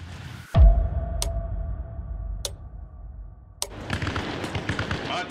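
Gunfire in the video game Arma Reforger during an Afghanistan-set convoy mission: a heavy close shot opens, followed by three sharp isolated cracks spaced about a second apart, then a dense rattle of battle noise near the end.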